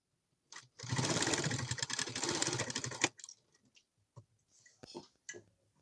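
Domestic sewing machine stitching a kitchen apron, a steady close run of rapid needle clatter for about two seconds, then stopping, followed by a few quiet fabric handling clicks and thumps.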